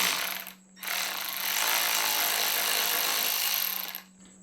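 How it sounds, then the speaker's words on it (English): A small Milwaukee power tool whirs steadily for about three seconds, backing 4mm Allen bolts out of the belly fairings on a Ducati Panigale V4S, with brief quiet before and after the run. "So we're just going to use our little Milwaukee right here to take these out."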